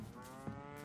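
A cow moos once, short and fairly faint, amid steady game background sound in Lego Fortnite.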